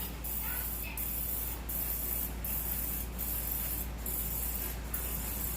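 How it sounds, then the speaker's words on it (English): A pump sprayer hisses in short repeated bursts into the wells of a baking pan, about seven evenly spaced sprays over a steady background hiss, close and fairly quiet. "So I'm just going to go ahead and spray my wells."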